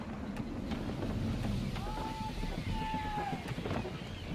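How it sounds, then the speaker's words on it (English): Gusty wind rushing over a sailing ship at sea in Assassin's Creed III, a steady broad roar of wind and water with faint creaks and whistles, under low game chatter. "Wind looks to be shifting. Stay alert, Connor. Gusty winds can be difficult to manage."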